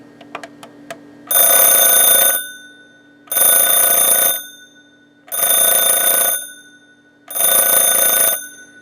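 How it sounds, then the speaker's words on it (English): A 1980s Panasonic Big Bell RC-6180 clock radio alarm rings in four loud, harsh bursts of about a second each, separated by short pauses, after a few faint clicks at the start. "it will let you hear what the alarm will sound like when you set the alarm off"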